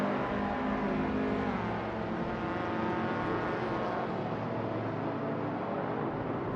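Racing car engine of a 1970 Alfa Romeo GT in a racing video game, a steady dense drone that holds at a constant level throughout with no talk.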